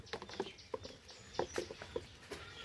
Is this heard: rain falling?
yes